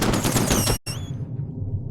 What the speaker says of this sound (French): mais ça part vite les balles quand même